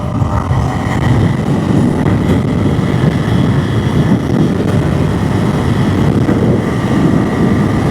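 A 2025 KTM 390 Enduro R motorcycle ridden off-road in off-road mode. A loud, steady engine drone carries throughout, mixed with heavy wind rush and no speech.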